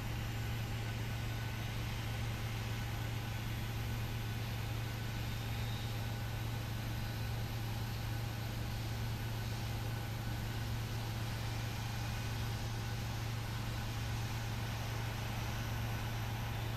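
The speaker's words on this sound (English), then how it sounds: "Listen to the engine spooling up." A PMDG Boeing 737-800 engine in the Prepar3D flight simulator makes a loud, steady, broadband drone with a low hum, continuous throughout with no talking.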